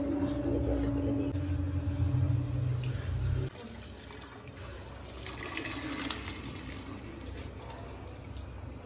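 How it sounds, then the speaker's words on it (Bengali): Water from boiled rice drains through a basket during home chicken biryani cooking, a gushing pour that runs for about three seconds and then settles into a quieter steady trickle and dribble. "জলটা ফেলে দিই।"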